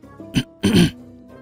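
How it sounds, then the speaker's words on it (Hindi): A short throat clearing: a quick rasp followed by a longer, louder gravelly 'ahem', close to the mic against a quiet, faintly humming background. "मगर रह न सके तो गला साफ करके बोले"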